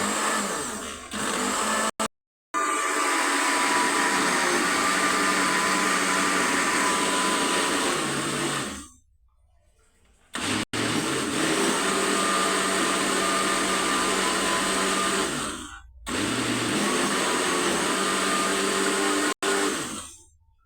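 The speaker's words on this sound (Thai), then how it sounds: "แล้วเราก็ปั่น" An electric blender whirs loudly while blending peeled mangoes with a pinch of salt, running in long continuous bursts separated by short silent pauses.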